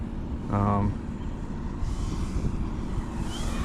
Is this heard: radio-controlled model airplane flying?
yes